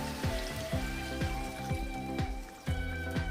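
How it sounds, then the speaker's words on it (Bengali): Water poured into a pan of fried potatoes and flat beans, giving a quiet spattering sizzle with scattered drip-like pops under a faint low background hum. "আমি দিয়ে দিচ্ছি জল"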